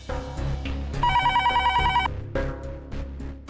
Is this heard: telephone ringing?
yes